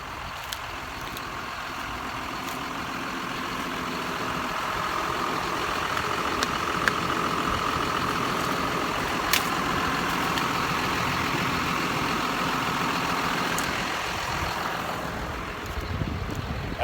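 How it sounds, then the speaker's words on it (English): A low, steady tractor engine idle rumbles continuously up close, with a broad mechanical hum and occasional faint clicks, no voices. "I gotta let that tractor cool down a little bit."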